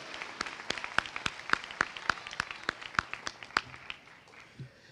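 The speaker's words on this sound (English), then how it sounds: "Let's give them another round of applause" An audience at an elementary school moving-up ceremony gives a short burst of applause. It sounds like a small, sparse scattering of claps that fades out after a few seconds.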